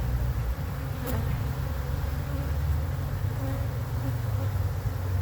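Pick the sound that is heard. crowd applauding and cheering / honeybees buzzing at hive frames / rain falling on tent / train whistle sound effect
honeybees buzzing at hive frames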